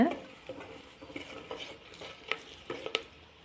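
Coriander, chili and sambar powders fry in oil in a pan for a paneer gravy, with a soft sizzle under intermittent spoon scrapes and light metallic clinks.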